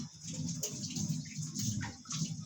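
Water runs steadily from a kitchen tap during cooking, a close, even hiss and splash with no talking over it.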